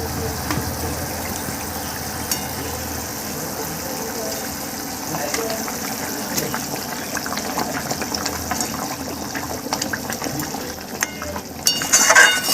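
Rui fish kalia curry boils in a pan, a constant soft bubbling and hiss with scattered pops and clicks, growing a little louder near the end.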